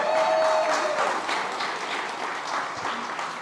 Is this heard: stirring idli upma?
no